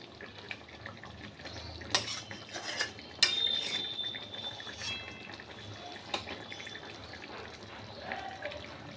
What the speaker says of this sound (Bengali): আবার একবার নেড়ে দিলাম